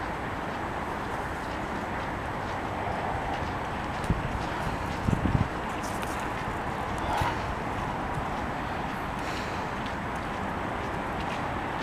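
Horses' hooves clip-clop at a Goffs sale of foals, a steady patter of scattered hoof falls within a constant, noisy crowd and room ambience, with a few sharper knocks standing out briefly.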